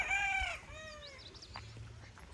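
Chickens in a rural yard let out a short burst of squawking and clucking at the start, followed by fainter scattered calls and a low background hum.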